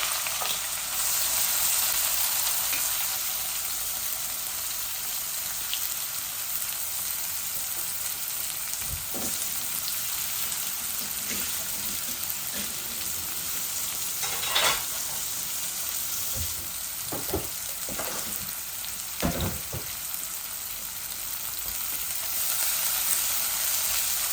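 A medium onion fries in a pan with a steady, moderate sizzle, broken by a few sharp clinks and stirring scrapes, with no one talking.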